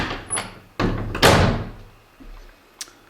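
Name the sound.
door being closed in a château bathroom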